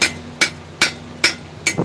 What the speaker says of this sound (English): I about dead blowed the other side with a hammer.